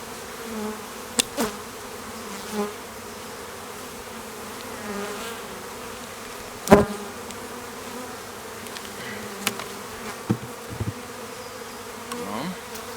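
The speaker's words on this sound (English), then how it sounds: "very few bees left in here" Honeybees from a newly installed package buzz in a hive at low level, a soft continuous hum with a few sharper knocks and passing buzzes close by.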